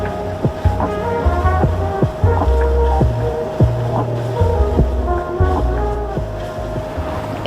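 Sailboat's motor running on glassy flat water while heading north to an anchorage, a steady loud engine drone with irregular knocks and thumps layered over it, close and continuous throughout.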